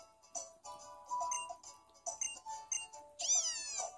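A cat in the video game Pokémon Moon meows several times in short, high calls, ending with a longer rising-and-falling meow, with quiet gaps between them.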